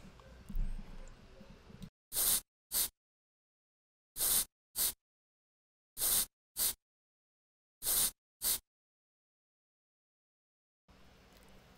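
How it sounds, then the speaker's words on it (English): In a Unity game demo, a spray sound effect fires in four paired bursts, each a short loud hiss followed by a second, separated by silence, after a faint background murmur. "when we press F button, we will spray and play the spray sound effect"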